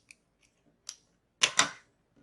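A few brief scissor snips cutting crochet yarn, close and crisp, with two louder cuts in quick succession after a couple of faint clicks.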